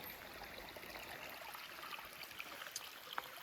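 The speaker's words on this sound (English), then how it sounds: "Water's flowing." Soft, steady rush of a Vermont creek running over river-rock boulders, faint and continuous with a few small splashes and trickles.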